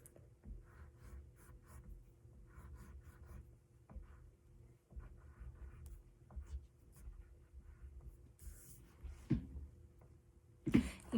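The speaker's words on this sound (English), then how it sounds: "And now we are going to trace uppercase M and lowercase m" Pencil tracing uppercase and lowercase M on paper, soft scratchy strokes in short bursts with pauses between, faint and close, alone.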